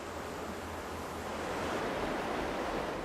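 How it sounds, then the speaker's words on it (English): A river rushes through a restored channel, a steady broadband wash of flowing water that stays even and moderately loud from start to end, with no voices. "That water it's just relaxing to hear it go through there like that"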